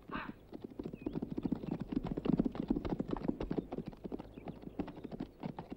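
Steady clip-clop of horse hooves walking on hard ground, a continuous uneven rhythm close by.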